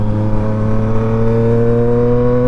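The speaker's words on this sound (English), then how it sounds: "And this is only an Mt-09." A Yamaha MT-09 motorcycle engine revs loud and close with a steady, sustained high-pitched mechanical whine, rich harmonic drone holding without pause and no talking.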